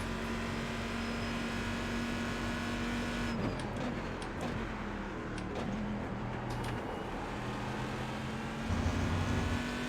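GT1 race car engines in a racing video game, Corvette and Aston Martin at Road America, drone and whine continuously, with shifting pitch as cars rev and pass, steady and moderately loud with no voices.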